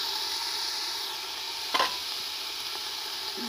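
Rice being stir-fried in a pan, a steady gentle sizzle with one short scraping stir partway through and a few faint clinks, fairly quiet with no talking.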